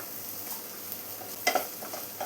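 Onions with crushed ginger-garlic paste sautéing in a pan for Kerala-style chicken puttu, a low steady sizzle with a couple of brief stirring clinks near the middle and no voices.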